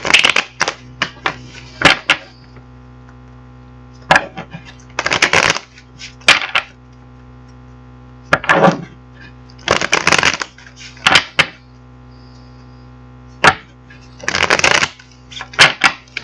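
A deck of tarot cards is shuffled in repeated quick riffling bursts, each lasting about a second, with short quiet gaps between them, close and clear with no talking.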